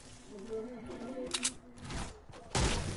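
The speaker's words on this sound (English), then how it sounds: "But they're shooting at each other." Fortnite Battle Royale gunfire crackles in short bursts and single sharp shots, fairly quiet and partly under players talking.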